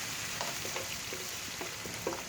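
Ginger garlic paste fries with onions in a pan, giving a soft, steady sizzle with small scattered pops and stirring clicks, faint and close.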